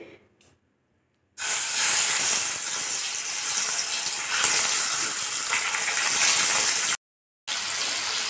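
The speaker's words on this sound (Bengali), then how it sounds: "এবার মাছগুলোকে লাল লাল করে ভেজে নেব" Salted, turmeric-rubbed rui fish pieces fry in hot oil in a kadai, a loud, continuous hissing sizzle close up that begins after a brief quiet, cuts out for a moment and then resumes.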